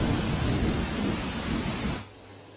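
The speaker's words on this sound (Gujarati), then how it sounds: "કેશોદમાં જે વરસાદ વરસી રહ્યો છે" Heavy monsoon rain pours down in Keshod, Saurashtra, with low rumbling thunder rolling underneath a dense, steady roar of rainfall that cuts off abruptly near the end, leaving a faint hum.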